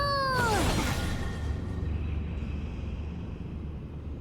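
In the Honkai: Star Rail video game, a cat gives one short, falling meow at the start, followed by a steady whooshing background hum.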